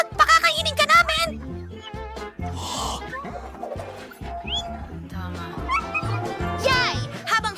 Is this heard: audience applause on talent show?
no